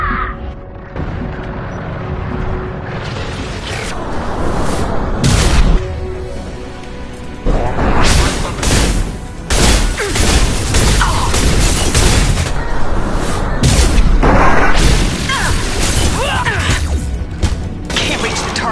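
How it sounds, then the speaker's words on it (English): Repeated sniper rifle shots and heavy booms in the Mass Effect game, loud and echoing, fired in irregular bursts over a dense layer of combat noise and mechanical sounds, with a voice speaking at times. "Sniper rifle utilization."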